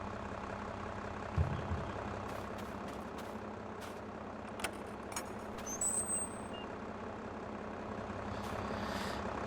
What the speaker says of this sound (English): Oh yeah, this tractor's having problems full stop, I think.